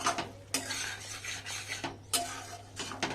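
A spoon scrapes and stirs around a pan as sour yogurt is mixed into a simmering mushroom and pea gravy, with several sharp metallic clinks over a soft, steady sizzle.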